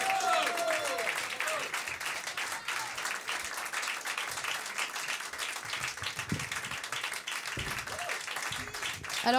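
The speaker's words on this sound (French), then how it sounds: "On peut applaudir très fort Fabrice Adjal, s'il vous plaît." Sustained applause from an audience at a French talk or public event, steady and dense clapping filling the whole stretch with a few scattered voices underneath.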